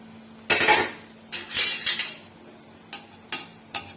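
Dry rice grains clatter and rattle into a small metal cup in several short pours and scoops, close up, with quiet pauses between.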